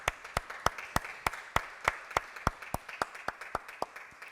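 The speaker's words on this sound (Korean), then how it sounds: "우리 하나님 앞에 감사의 영광의 박수를." A church congregation claps in unison to a steady, even beat, about three claps per second, with no voices.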